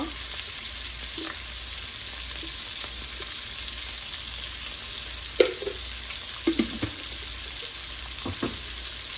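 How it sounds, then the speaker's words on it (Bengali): Spice paste and garlic paste sizzle steadily in hot oil in a pan, a constant close hiss with a few occasional soft taps and scrapes of a stirring utensil, no voices. "দিয়ে আমি মশলাটা ভাজি করে নিব। একটু লাল লাল করে ভাজি করে নিব।"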